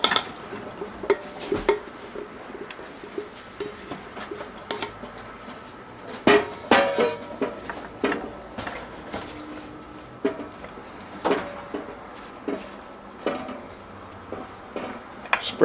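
Potatoes and mushrooms being spread out in a roasting pan, with repeated clinks and scrapes of a utensil against the pan in an irregular rhythm, close and moderately loud, no talking.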